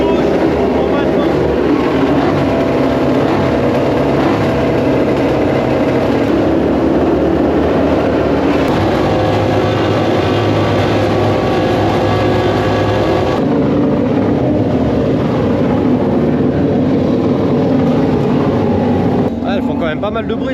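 MotoGP racing motorcycles run at a track in Indonesia, heard from above the team garage as a loud, constant, high-pitched engine roar that shifts in tone partway through, with speech in the background.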